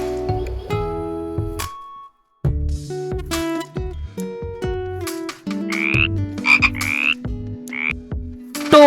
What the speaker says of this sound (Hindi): फ्रॉग, फ्रॉग को हिंदी में मेंढक बोलते हैं।